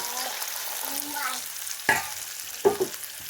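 Water poured into a pan of fried onions and spices sets off a soft sizzle, with a few sharp clinks and stirring knocks near the end.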